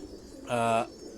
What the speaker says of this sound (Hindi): ये ब्रीडर कबूतर हैं